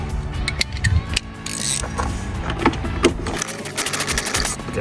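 A ratchet wrench undoes a 10mm bolt in the engine bay of a Mazda MX5. Close, sharp ratcheting clicks and metallic creaks come in uneven bursts, with some handling knocks between strokes.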